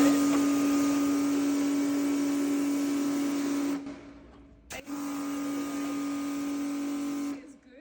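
High-pressure hose spraying water onto a car, a steady loud hiss with a pump hum that cuts off briefly, then resumes and stops again.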